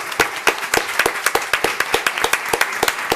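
Audience applause at an educational workshop, a steady run of sharp individual claps that are fairly close and moderately loud, continuing without pause for the whole span with no voices over them.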